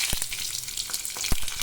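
Dried red chillies frying in hot coconut oil for a Kerala tempering, a bright crackling sizzle with a few sharp pops and stirring, close and alone.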